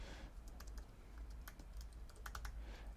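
A computer keyboard clatters with quick, light keystrokes as a title is typed, quiet and close over a low steady hum.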